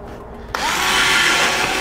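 Power drill starting abruptly after a moment of quiet and running steadily at high speed while drilling holes, loud and close, no voices.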